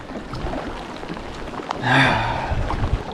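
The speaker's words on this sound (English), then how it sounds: "It's rainy, it's windy." Steady rain and gusting wind roar throughout a storm while camping and kayaking, swelling into a louder rush near the middle before settling back into a constant wet hiss.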